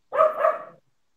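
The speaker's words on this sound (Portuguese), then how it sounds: "Eu tô escutando até teu cachorro." A single short dog bark, fairly close and clear, heard over an online call, followed by silence.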